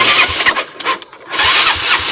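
Motorcycle engine starting in a rural Sundanese setting, a loud mechanical burst that catches and runs, dips briefly, then picks up again at a steady idle-like roar, close to the listener with no talk.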